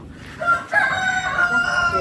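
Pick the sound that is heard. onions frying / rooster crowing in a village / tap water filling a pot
rooster crowing in a village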